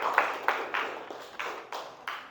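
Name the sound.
class applause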